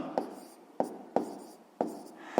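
A pen writes numbers for a sixth-grade math exercise in quick, separate strokes, several soft scratches close by at a steady pace, quiet and without speech.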